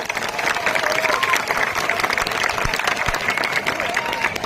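A crowd at a large student protest breaks into loud, sustained applause, dense clapping close by with some voices mixed in.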